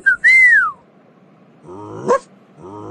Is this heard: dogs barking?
yes